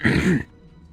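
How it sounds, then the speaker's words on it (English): A man clears his throat once, close and loud, in a short rough burst that stops abruptly into near silence, heard while he plays Assassin's Creed 2. "being so rude and clearing my throat in everybody's ears"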